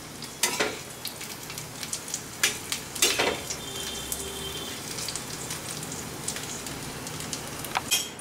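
Paneer tikka sizzles in oil on a tava, with a soft, continuous crackle and occasional sharper spatters and stirring clicks, moderately quiet and with no voices.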